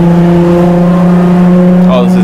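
A subscriber's car engine revs steadily toward 4,000 RPM, a loud sustained droning tone that rises slightly near the end, with voices talking over it.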